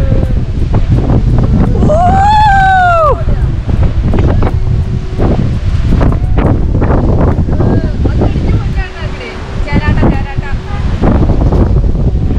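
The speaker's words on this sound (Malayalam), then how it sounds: "കൊടുങ്കാറ്റാണല്ലോ നമ്മളിപ്പോ വയനാടൻ കാറ്റിലാണ്" Strong gusting wind roars in Wayanad, buffeting the microphone with a loud, continuous rumble. People's voices call out over the wind.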